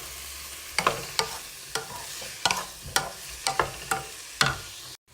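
Peas and cauliflower florets sauté in a pan for a yogurt cauliflower curry, with a soft background sizzle broken by about a dozen sharp scrapes and clacks of a spoon stirring at an irregular pace, and no voices.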